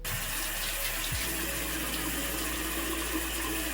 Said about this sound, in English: I'm gonna wash my face now.